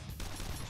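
A short burst of gunshots from an attack in the Persona 5 Royal battle against Kamoshida, a quick, dense crackle of shots at moderate volume.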